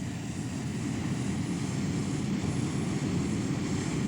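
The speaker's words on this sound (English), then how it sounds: "aircraft, like Britain's Nimrod maritime reconnaissance and strike plane" A Nimrod maritime reconnaissance and strike plane drones overhead in flight, a dense, steady engine roar that holds at an even, fairly loud level throughout with no voices.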